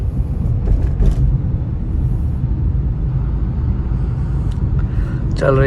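A Hyundai i20 petrol hatchback cruises in fourth gear on a city road in Noida, its steady low engine and road rumble running continuously beneath someone talking inside the cabin.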